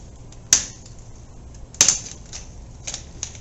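Old, short wires are snipped with cutters: two sharp, crisp clicks about a second apart, followed by a few fainter ticks against a quiet background.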